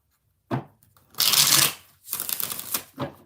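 A deck of oracle cards is shuffled by hand in several quick, crisp bursts, close up, with short silences between riffles.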